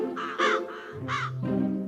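Several crows caw loudly in a deep forest around a great tree, harsh calls coming in two or three bursts, up close with nothing else heard.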